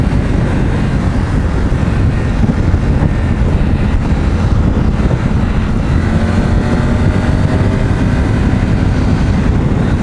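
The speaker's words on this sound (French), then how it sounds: "il y a quand même beaucoup de vent" Strong wind buffets the microphone in a loud, constant rumbling roar throughout, with the engine of a Triumph Tiger 900 motorcycle droning underneath.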